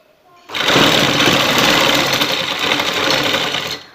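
A sewing machine runs in one continuous burst of about three seconds while stitching a strip onto a kameez neckline, close and loud with a rapid, even needle rhythm and no talking.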